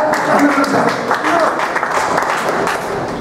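Audience applause at a memorial meeting in Chirala, steady dense clapping filling the room while a voice talks over it.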